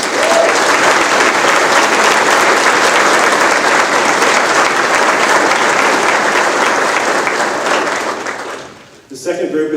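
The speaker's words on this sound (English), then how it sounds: "So I'd like to offer a round of applause for our instructor pilots" An audience at an Undergraduate Pilot Training graduation ceremony applauds its instructor pilots in loud, dense, sustained clapping that fills the space for about nine seconds before fading out abruptly.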